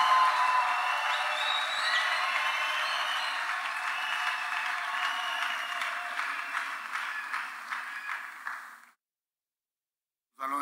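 A congregation at a church wedding service applauds loudly and steadily for about nine seconds, a dense wash of clapping that fades and then stops abruptly, leaving near silence before a short burst returns at the end.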